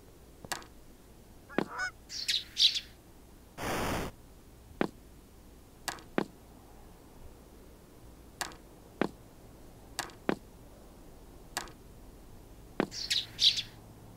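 Bird calls from the Tic-Tac-Crow mobile puzzle game: sharp, repeated chirps and honk-like cries scattered across the stretch, with a few bursts of fluttery tweeting, clear against a quiet background with no talk.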